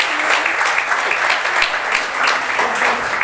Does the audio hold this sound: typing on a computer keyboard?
no